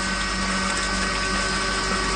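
A DC brushless surface solar pump rated 350 watts at 24 volts, sitting on the ground and running with a loud, steady motor whine and water rush, constant and close throughout.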